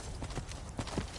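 Hooves of a horse in the video game Skyrim clip-clopping in a brief, close run of soft, even beats.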